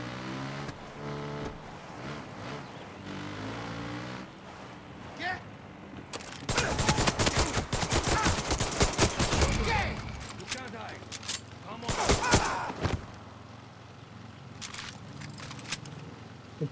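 Gunfire in the video game Far Cry 6, with a dense, loud burst of rapid shots in the middle and another short volley near the end, over steady background game sound.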